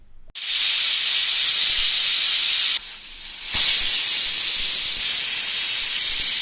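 Loud, steady hiss of steam escaping a pressure cooker cooking tomato rasam, continuous for several seconds with a short dip midway before surging back.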